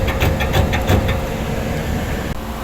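A noisy packaged air-conditioning HVAC unit runs with a loud, steady mechanical rumble and broadband roar, with a few brief rattling bursts early on, heard alone and close.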